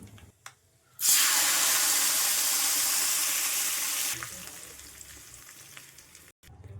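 A tempering of mustard seeds, cumin, urad dal and curry leaves hits hot oil with a sudden loud sizzle that holds for about three seconds, then fades to a softer crackle.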